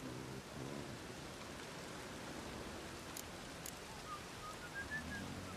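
Steady rain hiss in The Witcher 3 city streets, a soft continuous wash of falling rain with faint bird-like chirps, moderately quiet and without speech.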